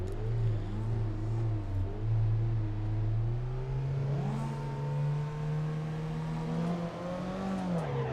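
A race car engine in Assetto Corsa drones and rises in pitch as the clutch is eased out, revving steadily up, dipping, then climbing again in a loud, close, continuous whine.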